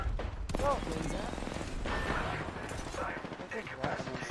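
In a shooter video game, rapid bursts of gunfire rattle near and loud among other game effects, while a player talks over the shooting.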